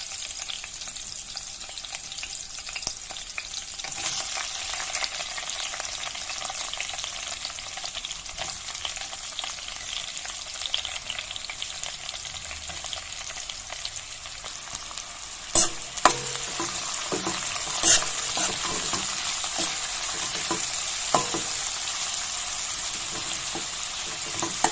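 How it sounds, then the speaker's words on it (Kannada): Three medium onions fry in a pan for chicken pulav, with a steady sizzle throughout and spatula stirs and scrapes that get louder and more frequent toward the end. No one talks. "ಚೆನ್ನಾಗಿ ಹುರಿಬೇಕು. ನೀರುಳ್ಳಿ ಸಾಫ್ಟ್ ಆಗೋ ತನಕ ಹುರಿಯಿರಿ."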